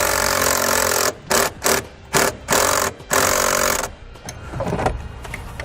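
A self-tapping screw is power-driven into sheet metal to fix a ground wire for a brake-lite relay on a 2004 J vehicle, a loud, close whirring drill in several short bursts with brief pauses, then quieter rattling.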